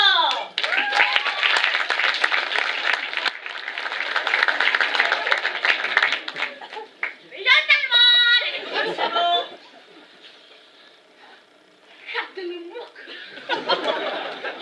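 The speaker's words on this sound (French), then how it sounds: "je vous demande de faire un triomphe d'applaudissements pour notre deuxième candidat" A theatre audience breaks into loud applause, dense clapping filling the first half, then fading into scattered claps and chatter before another burst of clapping near the end.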